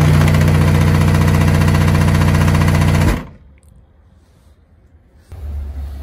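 A bass blast from a subwoofer box called The Blast Bin, playing a 30 hertz tone. The deep, loud, steady drone runs for about three seconds and then cuts off, leaving near silence followed by faint low rumble.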